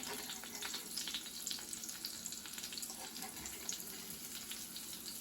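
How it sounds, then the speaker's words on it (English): Butter sizzles in a hot pan on top of a corn cinnamon bun pancake, a steady close crackle with a faint hiss, and no talking. "I want to put my butter right on top"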